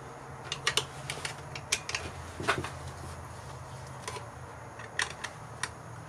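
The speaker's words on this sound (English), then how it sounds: "Go ahead and get these screws tightened down." Carburetor screws are snugged down on a Husqvarna 51 chainsaw: quiet, scattered small metallic clicks and ticks at irregular intervals over a faint steady background hum.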